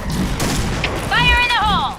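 A grenade explosion in a video game bursts with a broad rumble partway through, mixed with other game effects and a sustained tonal cue, under a voice shouting over the action.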